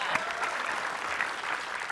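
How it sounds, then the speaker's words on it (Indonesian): A studio audience at a talk show claps for a film actor guest. The dense, even applause is fairly soft and distant, lasting about two seconds. "Tepuk tangan sekali lagi buat Reza Rahadian"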